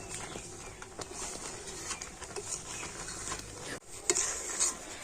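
A thickening sweet mixture is stirred in a pan over low heat, a faint soft scraping and bubbling close by, with no one speaking.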